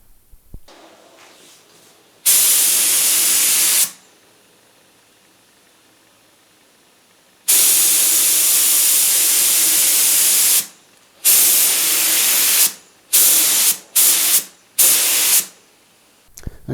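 A clear lacquer coat is sprayed onto a bass guitar body in loud, close hissing blasts. Two long passes are followed by several short bursts, with quiet gaps between them.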